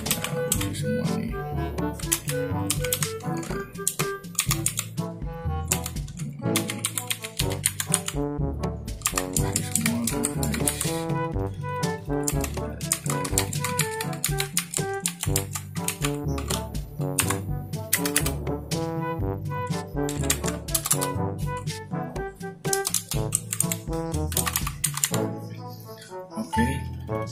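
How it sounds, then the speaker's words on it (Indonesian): Typing on an Aula F-2067TKL mechanical gaming keyboard with blue switches: a long run of loud, crisp clicky keystrokes, rapid and uneven, close up and nearly continuous with brief pauses, no voices. "kita coba tes tombolnya fungsi semua atau enggak"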